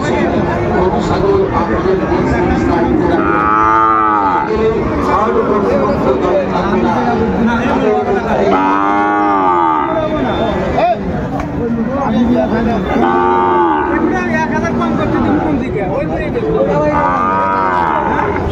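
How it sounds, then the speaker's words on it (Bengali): Sahiwal bulls and calves at a busy Dinajpur cattle market give several drawn-out moos, spaced a few seconds apart, under constant loud crowd chatter and bargaining voices. "কেমন দামে শাহিওয়াল জাতের ষাঁড় বাছুর গরুগুলো বেচা কেনা হচ্ছে"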